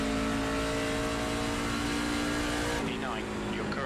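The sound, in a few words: NASCAR truck engine in a racing video game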